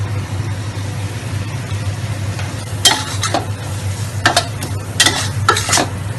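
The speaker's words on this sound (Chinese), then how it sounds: "我们把这个 tomato 也下去爆香它。" Tomato and biryani spices stir-fry in a pan with a steady sizzle, broken by a few sharp scraping stirs near the end, with no talking.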